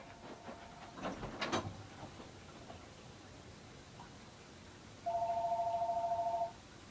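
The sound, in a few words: telephone ringing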